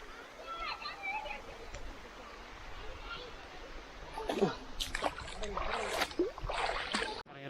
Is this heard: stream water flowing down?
yes